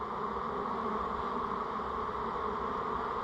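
Honey bees in a swarm housed in a double deep hive give off a continuous, even drone, a soft close hum holding steady throughout with no voices.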